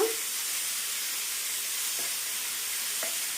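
Chopped spinach frying in oil in a pan while cooking a chutney, giving a steady soft sizzle throughout with a couple of faint stirring clicks, no talking.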